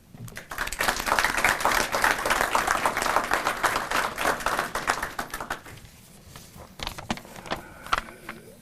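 An audience at a Marine Corps Recruit Depot San Diego award ceremony breaks into loud, sustained clapping to welcome a speaker, then thins into scattered claps before it stops.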